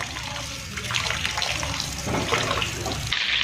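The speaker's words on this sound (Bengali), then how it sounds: "এই পাশ থেকে আমি চাল ধুয়ে নিচ্ছি, পোলার চাল" Polao rice, about 1.5 kilos, is washed in a pot of water by hand, with swishing, splashing and running water close to the mic.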